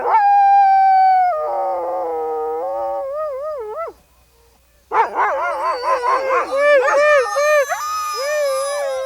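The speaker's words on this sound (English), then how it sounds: "The chorus moves from dog to dog." Sled dogs at a checkpoint on an Alaska winter trail howl in chorus, long rising and falling wails passing from dog to dog, loud and close, with a brief lull before more voices join in overlapping yips and howls.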